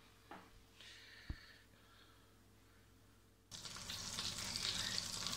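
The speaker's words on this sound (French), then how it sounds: "On a l'huile et le beurre qui fondent en même temps." Oil and butter melt together in a pan: a few soft clinks and a sharp knock come first, then a sudden, steady hiss of sizzling fat fills the second half, close and loud.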